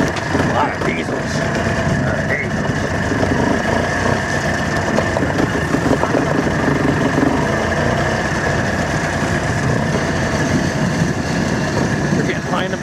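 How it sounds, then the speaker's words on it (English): Several diesel tractor engines idle together at a tractor pull in a steady, continuous low rumble, with faint background voices and no pauses throughout. "A lot of diesels."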